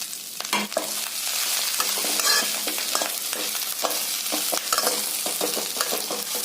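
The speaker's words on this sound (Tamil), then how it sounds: "கருவேப்பில் நல்லா வதக்கியாச்சுங்க" Curry leaves frying in oil in a pan, a continuous bright sizzle with intermittent scraping and stirring clatter, close and fairly loud with no voices.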